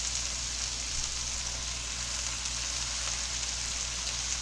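Beef sizzling steadily as it sears in a pot for beef bourguignon, a dense, even frying hiss that stays constant at close range with no talking.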